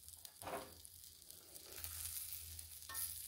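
Tri tip steak sizzles steadily on a griddle, a close, constant hiss and crackle with a few louder bursts of spatter and scraping.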